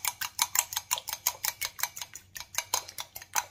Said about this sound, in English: And over here, I have my egg. Just going to whisk it up really good.